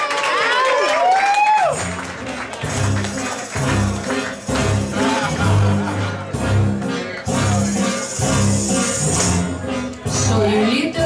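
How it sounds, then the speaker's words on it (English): A live theater audience applauds and cheers for a drag hostess, Miss Ginger Snap, with dense clapping and whoops that swell into a steady roar, though musical tones and a voice also sound over the crowd. "can I have a big round of applause for your hostess with the mostest"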